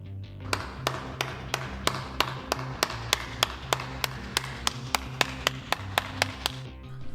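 Hands clap in a steady, even rhythm, about twenty sharp claps in a row, close and clear over a low background hum.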